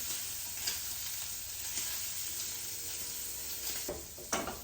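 Gravy with chopped bell pepper sizzles steadily in a pan, a soft continuous frying hiss with a few light scrapes and taps of a spoon as it is stirred, heard alone at moderate volume.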